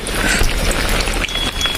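Heavy rain pours outdoors, drenching everything, as a dense, continuous hiss of drops hitting surfaces, close and steady, with no voices.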